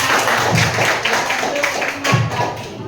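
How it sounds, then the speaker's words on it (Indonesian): Classroom applause as students clap for their classmates, a dense patter of hand claps with a few louder bursts, filling the room steadily for a few seconds. "beri tepuk tangan untuk teman-teman"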